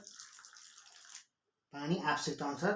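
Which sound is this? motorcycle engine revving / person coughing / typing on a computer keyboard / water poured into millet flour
water poured into millet flour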